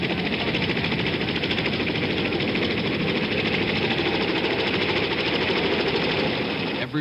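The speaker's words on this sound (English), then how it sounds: "More than 80 helicopters shuttling people out to the carriers." Dense, constant rotor-like chopping and engine roar from many helicopters ferrying evacuees to aircraft carriers, loud and unbroken from start to finish.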